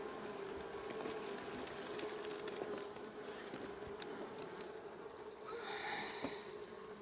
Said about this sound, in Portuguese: Tudo isso aqui é abelha.